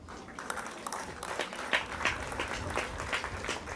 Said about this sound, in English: So applause Captain Talbot Nashville Tatum.